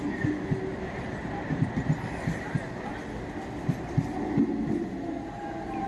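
A train on the South Eastern Railway's Kharagpur line rumbles steadily, with a low continuous roll and faint irregular clanks and knocks from the carriages throughout.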